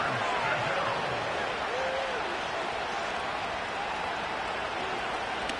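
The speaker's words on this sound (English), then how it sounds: "What about this crowd getting even louder before 3rd and 10?" Football stadium crowd in a video game, a steady loud roar of massed voices that holds and swells continuously throughout, filling the space with no individual speech standing out.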